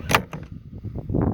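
A Benjamin Bulldog air rifle fires a 145 grain Nosler bullet through a chronograph at 50 yards, one sharp close crack followed by a softer thump and rumbling tail.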